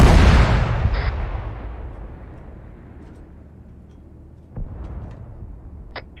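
A single big artillery-style blast from a weapon fired in the military game Arma 3 booms up front and rolls away into a long fading rumble, with a fainter distant thump near the end.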